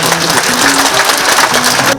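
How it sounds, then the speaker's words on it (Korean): Applause from a crowd of party members at a People Power Party local members' education meeting in Gimcheon: dense, steady clapping that fills the whole stretch at close range and cuts off at the end. "박수 한번 주시기 바랍니다"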